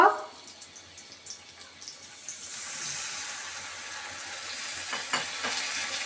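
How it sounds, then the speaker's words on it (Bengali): A sudden clatter gives way to low hissing that grows into a steady sizzle of spice masala with coriander powder, salt and water frying for a rohu fish curry, with occasional stirring scrapes and no talking. "এখন মশলাটাকে আমি ভালোভাবে কষিয়ে নিব"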